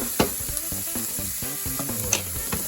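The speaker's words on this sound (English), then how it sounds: "Just want to sweat the onion." Chopped onion and garlic sizzling and frying in a pan while being stirred, with steady close sizzle and intermittent scraping and stirring clatters, no talking.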